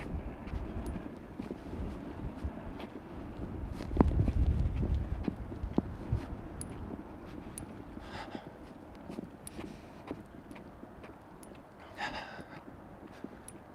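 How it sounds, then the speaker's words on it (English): Wind on a hiking trail buffets and rumbles against the microphone in steady gusts, with a stronger blast partway through and faint scuffing sounds on top. "Wow, it's windy as hell."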